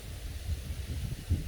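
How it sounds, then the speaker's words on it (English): Low rumbling wind buffeting a microphone outdoors, a continuous muffled roar with gusty swells, no voices. "Pardon the wind"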